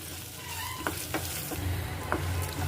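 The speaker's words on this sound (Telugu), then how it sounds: "2 మినిట్స్ అయినాక కొంచెం జీలకర్ర, 1 స్పూన్ ధనియాలు, ఇవన్నీ వేయించుకోవాలండి." Cumin and coriander seeds fry with green chillies in a pan, giving a steady close sizzle broken by a few sharp clicks of a spoon stirring against the metal.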